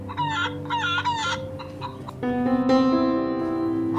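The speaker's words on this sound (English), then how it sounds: "hen" A hen clucks in a quick series of sharp calls, then a rooster's long crow rings out close and loud, with no talk over them.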